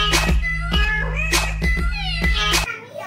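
A cat meows loudly and repeatedly indoors at home, several drawn-out calls in a steady rhythm over a constant low hum.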